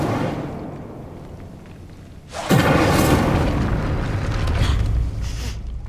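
A sudden loud whooshing blast from the Incendio fire spell in Hogwarts Legacy bursts in mid-clip and sustains as a roaring, crackling rush for a few seconds before easing off.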